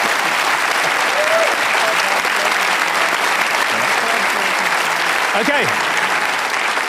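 A TV Q&A panel studio audience applauds the panellists with dense, loud, steady clapping throughout, and a brief spoken word rises over it near the end.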